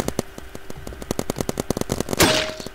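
Rapid paintball gunfire in a Roblox paintball match cracks out in a quick regular string of shots, then a louder burst lands near the end after a brief break in the rhythm.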